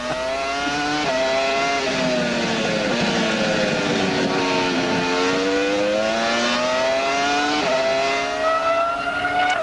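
A Formula One car with nearly 900 brake horsepower races on track. Its loud, close engine gives a continuous high-pitched scream that rises and falls through gear changes, with no talk over it.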